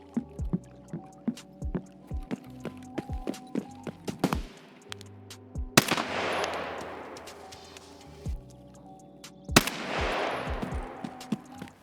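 Gunfire in the video game Escape from Tarkov, PvE on Lightkeeper's Island: sharp single shots scattered across the stretch, with two heavier bursts of rapid automatic fire, loud and close.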